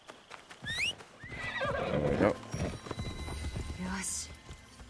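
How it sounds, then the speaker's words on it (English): A horse in Assassin's Creed Shadows whinnies loudly and its hooves clop in a steady rhythm close by, with a brief spoken remark near the end. "The horse is stuck."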